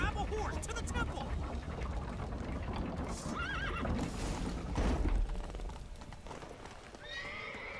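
A horse whinnies repeatedly and hooves clop amid tense gameplay in The Witcher 3 during a rushed escape to a temple, with shouting voices and rising commotion over the animal sounds.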